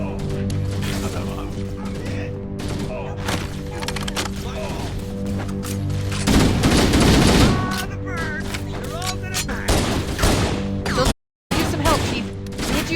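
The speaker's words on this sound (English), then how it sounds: "these cannons here are also awesome" Cannons firing in the Halo: Master Chief Collection on Xbox One, loud rapid bursts of booming shots and clattering impacts over game noise, with a heavier barrage midway and a short silent gap near the end.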